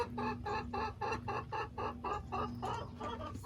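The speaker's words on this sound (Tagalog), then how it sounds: "Maingay mga manok ko" Chickens cluck repeatedly in a steady, rhythmic chorus, close by and fairly loud, with no talking.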